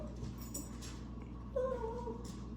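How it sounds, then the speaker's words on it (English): A dog whining in a room, a short high whimper rising then trailing off in the second half, faint against a low steady hum. "there's my dog being annoying"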